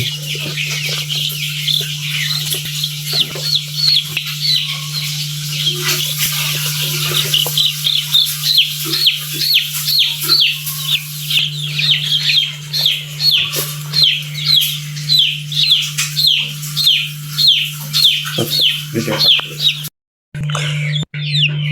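Chicks chirp in quick, high peeps, fast and continuous, close by over a low steady hum, breaking off just before the end.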